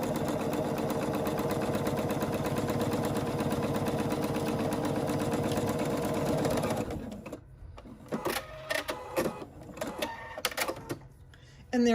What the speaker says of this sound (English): we're going to do a little top stitch along the seam to keep it in place